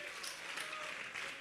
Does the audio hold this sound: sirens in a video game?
no